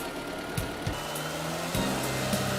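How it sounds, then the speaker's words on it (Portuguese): A Fiat Tempra 2.0 16V engine during an idle valve actuator test, humming steadily at idle with its revs audibly stepping up and changing pitch, accompanied by a few faint clicks. "É possível perceber o movimento interno da válvula através da variação de rotação do motor."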